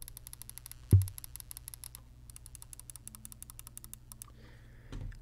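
Rapid, light clicks of the side buttons on a Logitech G Pro Wireless gaming mouse repeat in quick bursts, with a single louder thump early on and brief pauses between runs.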